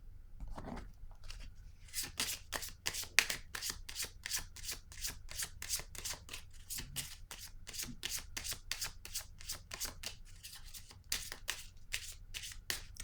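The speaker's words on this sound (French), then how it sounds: "Je vais déposer une carte" Cards shuffled and handled during a card reading, giving a long run of crisp, rapid riffling bursts close to the microphone in a quiet room, with brief pauses between them and no talk.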